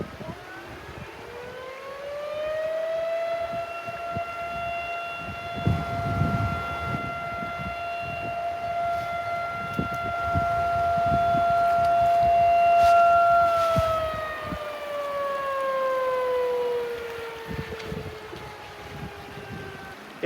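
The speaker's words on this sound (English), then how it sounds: "we're going to be able to hear the siren because it gets sounded at the fire hall." A civil defense siren at a fire hall rises to a long, steady wail, holds, then slowly winds down, sounding from a distance under gusts of wind.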